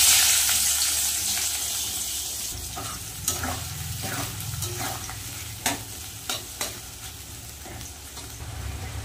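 Chopped onion hits hot oil in a wok and sizzles steadily up close, with occasional stirring scrapes and knocks of a utensil against the pan.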